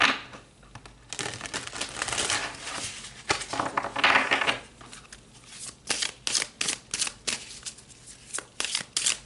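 Tarot cards being shuffled during a card reading, a long rustling riffle followed by a series of sharp, evenly spaced card slaps, close and fairly loud with no talking.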